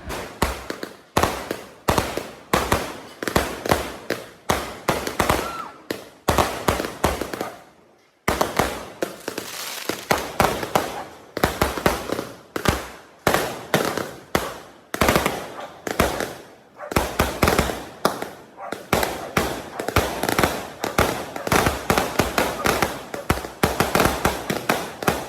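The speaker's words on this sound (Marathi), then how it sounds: "आता सेट बॅक अँड रिलॅक्स आणि एन्जॉय करा फटाक्यांचा नजारा" Diwali firecrackers and fireworks go off in quick, repeated sharp bangs and crackling bursts, loud and close, with one brief lull partway through and no talk over them.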